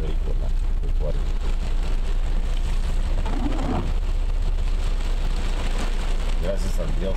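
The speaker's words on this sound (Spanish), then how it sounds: "Es el primer aguacero torrencial que tiene esta ciudad." A torrential rain downpour pounds the city of Chihuahua, a dense, unbroken roar of heavy rain on surfaces at a constant loud level throughout, with faint sounds of distant traffic mixed in.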